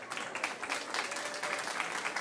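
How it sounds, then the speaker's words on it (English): Steady audience applause fills the room at an awards night, a continuous clatter of many hands clapping at an even level throughout, with no voices over it. "Please give him a round of applause."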